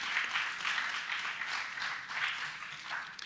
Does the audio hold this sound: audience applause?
yes